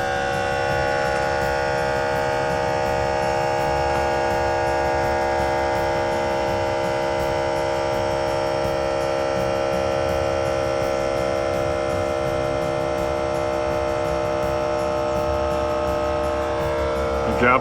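An Air Lift WirelessOne on-board air compressor for LoadLifter 5000 Ultimate air bags runs with a steady, continuous electric hum and whine throughout, constant in level with no pauses.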